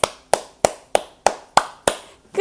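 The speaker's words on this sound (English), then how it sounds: "Good morning, clap your hands like mine. Clap those hands." Eight sharp hand claps in a steady rhythm, close and fairly loud, clapping along to a children's good-morning song at a story time, with no voices heard between the claps.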